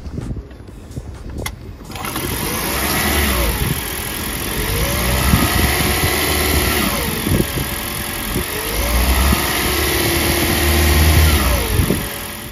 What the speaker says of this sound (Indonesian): So, kayak apa suara mesinnya? Kita startup dulu.